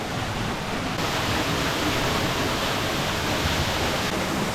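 A waterfall on a muddy hiking trail near a cave, heard close up as a steady, loud, broadband roar of falling water that stays constant throughout with no voices.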